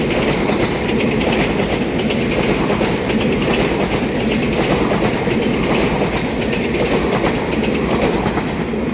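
A twelve-car EMU3000 Tze-Chiang express train on a test run along the Yilan line in Taiwan, rumbling past close and loud with a steady rhythmic rail clatter and no talking.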